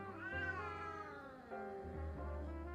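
A kitten named Luna meows close by, two or three drawn-out, rising and falling calls in quick succession, clear and alone with no talking.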